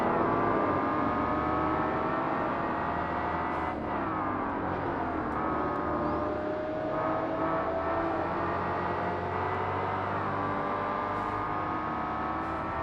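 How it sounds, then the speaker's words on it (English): Several race car engines in Forza Motorsport arcade racing, including a Ferrari 512, droning and whining steadily together, with pitch rising and falling as the cars shift and accelerate, continuous and fairly loud with no talking. "it's very hard to distinguish my engine from the CPU"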